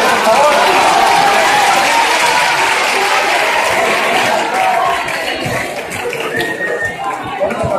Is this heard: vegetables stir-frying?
no